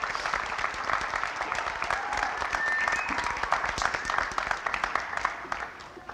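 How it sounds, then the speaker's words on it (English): An audience at an adult education graduation applauds, a dense patter of many hands clapping together, steady and fairly loud before gradually thinning out. "give yourselves a round of applause"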